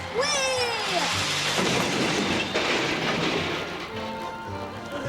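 A train-like clatter and rising squeal play from a small novelty Amtrak clock, with rhythmic clickety-clack and a whistle-like tone, fairly loud and close.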